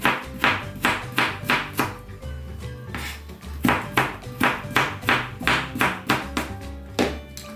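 A knife chops an onion finely on a board for olivier salad, a quick run of close, crisp, evenly spaced knocks that pauses briefly, then resumes in a second steady burst.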